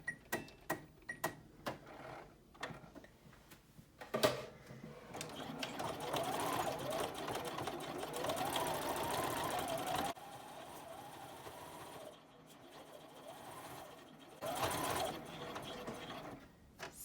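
A home sewing machine stitches fabric for a beginner tote bag, backstitching at the start and end of a seam. A few quick taps are followed by sustained close, steady whirring runs that pause briefly and resume.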